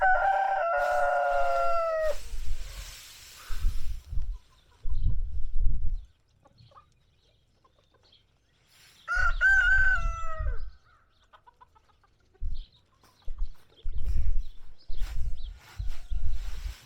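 Two roosters crow loudly at separate moments, one at the start and one midway, with low clucks, shuffling and quiet gaps in between.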